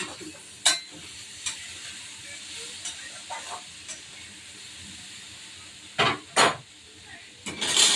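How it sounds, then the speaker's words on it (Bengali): Potatoes and yardlong beans frying slowly in a pan on low gas, a soft steady sizzle punctuated by several sharp spatula scrapes and knocks against the pan, close by. "আস্তে আস্তে ভাজাটা হোক আলু বরবটিটা ভাজা হয়েছে কিনা দেখে নিই"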